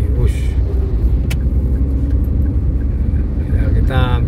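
Traffic on the Semarang–Purwodadi road with a truck going by, a steady loud rumble of engines and tyres throughout, broad hiss at the start and again near the end as vehicles pass close.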